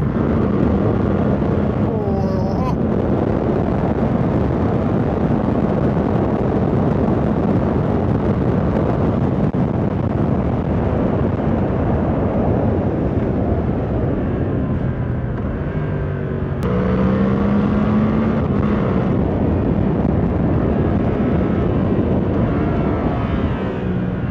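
A 2024 Suzuki GSX-8R motorcycle rides hard out of a corner through short bends, its engine a loud continuous drone rising in pitch between quick-shifter gear changes, under heavy wind roar.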